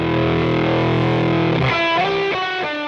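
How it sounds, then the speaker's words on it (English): Electric guitar through a Catalinbread StarCrash fuzz pedal, its saturated, voltage-starved fuzz circuit thick with harmonics: a held distorted chord rings for over a second, then a run of fuzzy single notes follows, with no voices. "Featuring a gooey, saturated fuzz circuit with a voltage-starved circuit to gently increase harmonic content."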